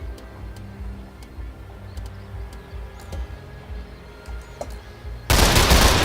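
Gunfire in the video game Lamplighter's League: a few sharp, quiet shots and clicks over low game ambience, then a loud burst of shooting that starts abruptly near the end and keeps going.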